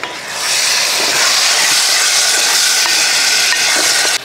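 Dates and grape pickle with vinegar sizzle in a pan while being stirred, a loud, steady hiss with faint scraping running almost unbroken from start to finish, close by and without speech.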